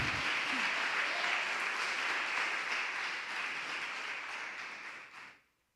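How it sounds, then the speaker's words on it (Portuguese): A church congregation applauding during a worship service, a long continuous roar of clapping that holds steady, thins gradually, then cuts off abruptly near the end. "Aplauda o Senhor, aplauda Ele."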